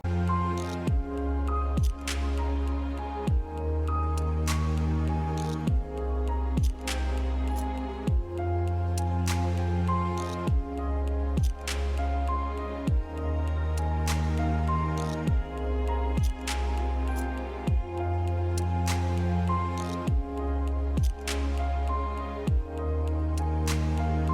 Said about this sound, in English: So let's begin to inflate it.